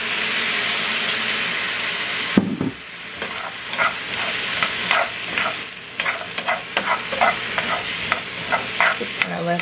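Brussels sprouts and garlic frying in a hot pan; a loud burst hits as balsamic vinegar goes in, then a strong steady sizzle and hiss continues with repeated scraping and stirring clatter, close up and without speech.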